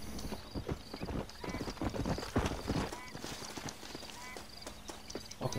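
Horse hooves clip-clop in quick, uneven bursts amid a soft ambient hum in the video game Red Dead Redemption 2, loud and close, with a brief whinny.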